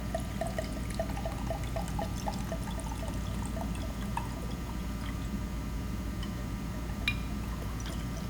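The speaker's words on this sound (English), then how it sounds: "what we're going to do is remove water from the flask" Water poured out of a flask during a sand absorption lab test, a steady continuous trickle and splash with faint drips, heard alone with no talking.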